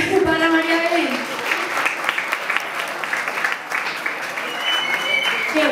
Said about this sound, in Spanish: Un fuerte aplauso para María Belén.